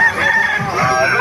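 A rooster crows among the chickens at the Bocaue tyangge market: one loud, near cock-a-doodle-doo with ringing, stretched harmonics, filling the whole short moment against a busy market background.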